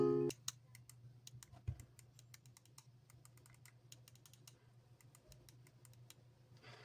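Buttons on a Retroid Pocket 5 handheld game console are pressed in a quick, irregular run of sharp little clicks, quiet and close, with no voices.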